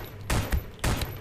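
A turret fires in Space Station 14, two sharp close bursts of shots about half a second apart, each with a quick follow-up crack.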